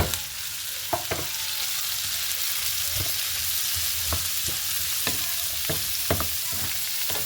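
Onion and celery fry in a pan with a continuous close sizzle, broken by repeated sharp scrapes and taps of a utensil stirring at irregular intervals.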